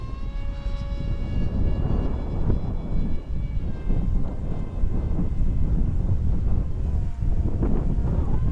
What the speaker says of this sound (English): The plane seems to handle the wind pretty good though.